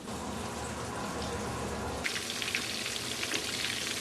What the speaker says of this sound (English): Let's go ahead and put our fries on.